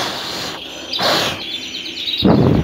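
Pet birds being picked up and held for a belly check for coccidiosis give short, high chirps and tweets in a few quick bursts, close by, with handling noise and no talking.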